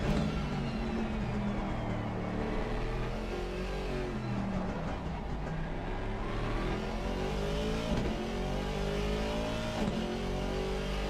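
A Ferrari GT3 race car engine in a sim racing game during a 24-hour Nordschleife endurance event at night, roaring steadily and loudly throughout, with rising and falling revs through gear changes.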